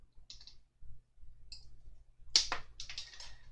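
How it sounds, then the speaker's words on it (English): A small plastic part of a Routemaster bus model being snipped from its casting: a few light, sharp clicks, with one crisper snap standing out partway through, close and quiet, no talking. "So I'm going to try and snip that off with the cleanest cut I can."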